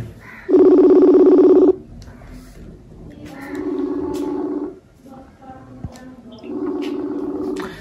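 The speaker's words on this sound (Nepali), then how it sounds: "कल लागिरहेको छ कलै उठाउनु भएको छैन" Ringback tone of a phone call waiting to be answered, with three long buzzing tone bursts separated by pauses, the first louder and the later ones a little softer.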